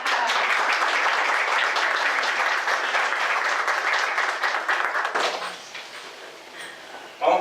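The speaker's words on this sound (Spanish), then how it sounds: "Bueno, un aplauso." Applause at a baptism service honours five people being baptized, a dense sustained clapping from the congregation that thins out and fades after about five seconds, followed by a few scattered claps and a sharp knock.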